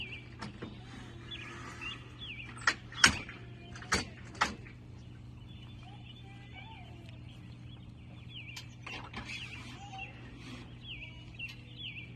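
A Dometic AE RV awning arm, dry and in need of grease, creaks and squeaks intermittently as it is lowered, with a few sharp clunks near the start amid steady low background hum.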